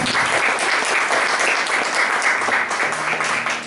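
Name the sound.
congregation applause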